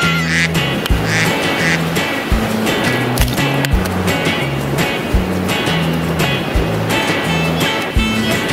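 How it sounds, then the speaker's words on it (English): Loud, repeated duck quacks come in a rhythmic toy-like pattern from a children's play toy, steady and close over a bright background clatter. "Duck."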